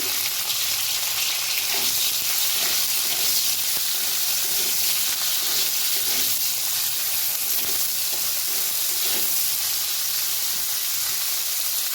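Okra (bhindi) sprinkled with a little salt frying in a pan, a loud, continuous close sizzle with steady hiss and faint stirring clicks, no voices.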